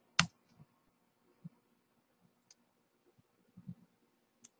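Light typing on a computer keyboard: a handful of soft, scattered key clicks in an irregular rhythm, close and quiet, against near silence.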